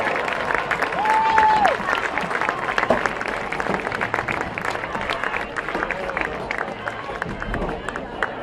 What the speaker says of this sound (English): Let's have a big round of applause for McFarland Youth Football.